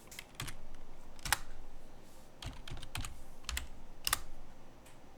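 Bursts of keystrokes on a computer keyboard while working in a Linux terminal, close and clear, in irregular clusters of quick taps separated by short pauses.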